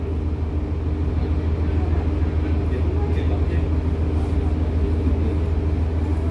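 A Jakarta commuter train idles at Surabaya Pasar Turi station, giving a steady, loud low rumble throughout with faint voices in the background.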